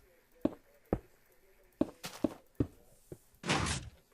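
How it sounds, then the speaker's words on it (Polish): A lever-operated piston door in Minecraft, heard as a series of sharp mechanical clicks and thunks at uneven intervals, followed by a short, louder hissing whoosh near the end. "mamy takie drzwi na dźwignię"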